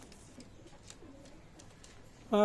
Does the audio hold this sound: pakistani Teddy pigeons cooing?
yes